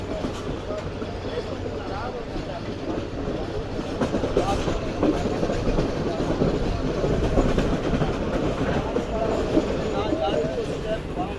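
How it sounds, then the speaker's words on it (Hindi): Karakoram Express passenger train with mixed coaches crossing the Mehran bridge over the Indus between Kotri and Hyderabad. A steady, dense rumble of wheels and rattling carriages runs throughout, with a faint clatter on top. "अब हमारी ट्रेन अप्रोच बना रही है मेहरान ब्रिज पर, जो कि दरिया सिंध के ऊपर बना हुआ है"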